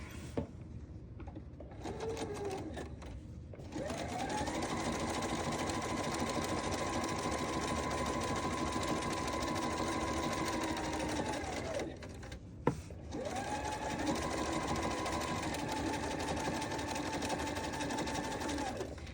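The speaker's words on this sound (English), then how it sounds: "we want to top stitch, so we're gonna move our needle back over and line it up to the edge of our fabric" A domestic sewing machine runs close by while top stitching fabric, whirring in two long steady bursts with a short pause and a small click between them.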